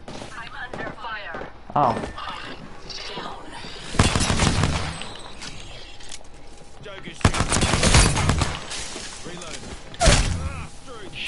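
Automatic-weapon gunfire in Apex Legends Season 11 cracks out in several loud bursts, near 4, 7.5 and 10 seconds, between quieter stretches of in-game sound while players talk over it.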